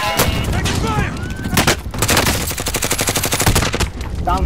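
Loud, dense gunfire fills a Call of Duty: Modern Warfare quads match, with rapid automatic bursts and heavy single shots close by and overlapping in quick succession, and voices chatter briefly beneath it.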